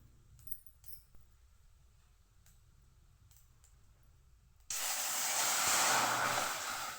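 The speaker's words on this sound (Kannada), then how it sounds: "ನೋಡಿ ನೋಡಿ 2 ಮೆಣಸಿನ್ಕಾಯಿ ಹಾಕ್ತಿದ್ದೀನಿ. 1 ಮೆಣಸಿನ್ಕಾಯಿ, ಕರಿಬೇವಿನ ಸೊಪ್ಪು ಹಾಕಿದ್ದೀನಿ." Dried chillies and curry leaves drop into hot oil and erupt into a loud, steady hiss of sizzling that runs for over two seconds, following several seconds of faint kitchen clinks.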